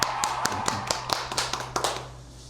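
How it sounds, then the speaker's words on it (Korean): A few people clap briefly for newly admitted pharmacy transfer students during an interview session, with sparse, separate claps fading out within a couple of seconds. "박수"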